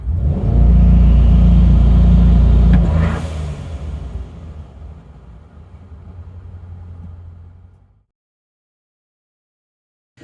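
A CSP twin turbo C8 Corvette launches hard at full throttle, a loud deep engine roar with rumble surging for about three seconds, then easing into a steady lower drone that fades to silence.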